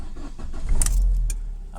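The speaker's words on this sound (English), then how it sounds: "I've started the car." A Fiat 500 engine cranks and catches, its low rumble swelling to a steady idle over under two seconds, heard up close from inside the car with a few faint clicks around the start.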